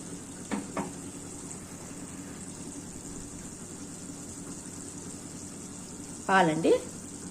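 Hot oil hisses in a steady, even sizzle as milk goes in to cook a ridge gourd curry made with milk instead of water. A soft clink comes early and a short voice near the end.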